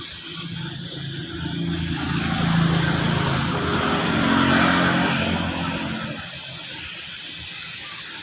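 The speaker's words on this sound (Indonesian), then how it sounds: "Ini setelah kering kita langsung semprot saja cat warna hitamnya." Spray gun misting black paint in thin coats onto the body panels of a Yamaha RX King motorcycle, a steady close broadband hiss that swells slightly and holds throughout with no talk.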